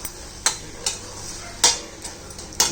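Fish curry simmers and sizzles in a pan, a soft bubbling hiss broken by several sharp clinks and scrapes of stirring, close and moderately loud.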